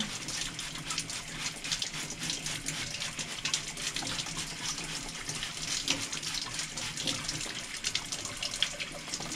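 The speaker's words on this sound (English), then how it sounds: "I'm going to spray until there's definitely no paint coming out of there, that I've gotten water worked up into the entire sprayer." A paint sprayer in a paint shop blasts water through its system during cleanup, giving a steady, close hiss of spraying water that runs unbroken from start to end with no voices.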